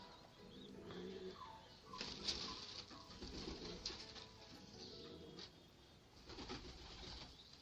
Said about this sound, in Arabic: الحمام عمال يهوي ويطلع وينزل